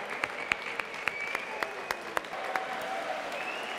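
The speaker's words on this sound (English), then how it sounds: "Well done, applause everybody" A crowd at a science and technology quiz night applauds the winning team, producing fairly faint, steady clapping with a few sharper individual claps standing out.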